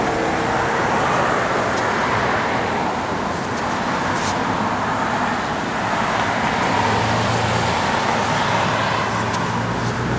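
A 1969 Plymouth Road Runner's engine runs steadily, a broad continuous rumble with a low droning tone that deepens slightly partway through, heard fairly close with no talking.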